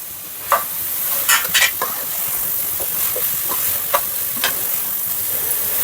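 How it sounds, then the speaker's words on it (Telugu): Prawns frying with masala and chopped tomato for gongura prawn curry in a pan: a constant loud sizzle and hiss, broken by repeated scraping stirs of a spoon, with no talking. "బాగా ఫ్రై అవ్వాలి ఈ మసాలాలోనే టేస్ట్ ఎంత బాగా ఫ్రై అయితే అంత బాగా టేస్ట్ వస్తుంది"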